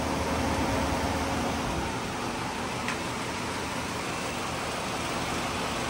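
A 12V rooftop air conditioner on a campervan runs with a steady, loud broadband whoosh and low hum, unchanging throughout, with no voices.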